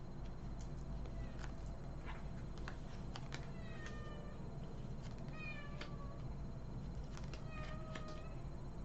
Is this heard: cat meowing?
yes